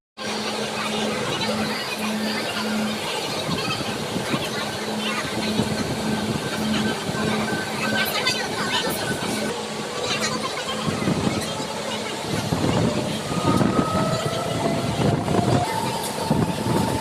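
A train rumbles and clatters at a railway station platform, a continuous loud roar of wheels and carriages with some crowd noise mixed in and a few brief horn-like tones near the end.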